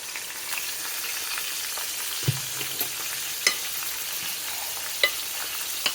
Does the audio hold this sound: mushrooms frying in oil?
yes